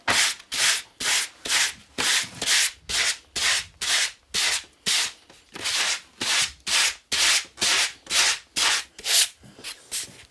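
Sandpaper rubs by hand back and forth over a wooden chessboard, removing tape and newspaper residue, in a steady rhythm of about two strokes per second, close and with no talking.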